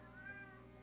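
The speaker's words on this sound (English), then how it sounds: "My cat is caterwauling" A pet cat caterwauls indoors in a single faint, drawn-out wail that rises and falls over less than a second.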